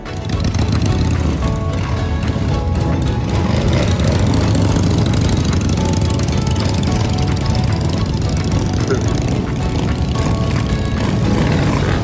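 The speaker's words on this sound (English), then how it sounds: "Now let's hear them engines. We want to hear them engines." Loud, continuous engine rumble from a group of vehicles running together nearby, a dense droning roar with no pauses and no voices over it.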